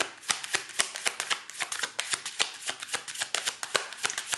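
Tarot cards being shuffled by hand up close, a rapid run of crisp riffling flicks and soft slaps lasting a few seconds with no one talking.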